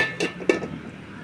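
A cooking pan of fish has its lid lifted off, giving two quick, light metallic clinks close together, quiet against a soft kitchen background.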